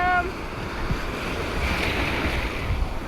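Sea waves wash onto a shore in Spain, a broad rushing surf noise with gusty wind buffeting the microphone, close and fairly loud throughout.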